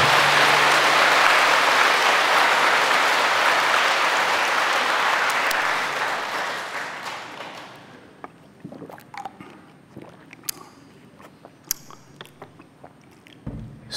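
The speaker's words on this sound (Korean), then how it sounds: "박수 한번 나올 때 안 됐나?" Loud, dense audience applause during a Buddhist monk's sermon, sustained for several seconds before thinning into scattered individual claps and quieting.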